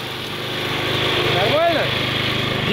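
A string-line trimmer-style lawn mower with thick 4 mm line runs at a steady high-pitched whine while cutting tall weeds, the engine note rising and bending briefly mid-clip, loud and close throughout.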